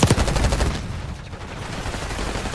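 Rapid automatic gunfire in Black Ops 6 on the Babylon map, a loud close burst of shots at the start fading into continued fire and game noise.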